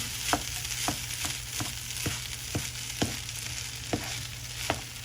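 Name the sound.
mixing spam fried rice in a frying pan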